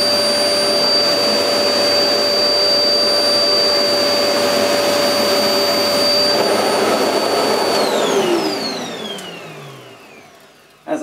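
A Goblin GCV301W bagless cylinder vacuum cleaner roars steadily with a high whine while its nozzle passes back and forth over pet hair, then powers down, the pitch sliding away and the noise fading before a brief final bump.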